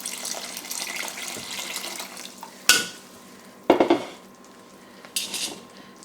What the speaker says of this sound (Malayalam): ഇത് നന്നായി ഇളക്കി കൊടുക്കുക.